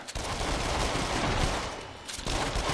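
Rapid gunshots in the PS4 game Rush of Blood, a loud, dense volley of overlapping shots that continues almost without a break, dipping briefly before picking up again.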